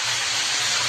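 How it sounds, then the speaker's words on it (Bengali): Spices crackling and sizzling in hot oil for a dal tempering (bagar), a dense, steady close hiss with no talk. "বাগার দিচ্ছি।"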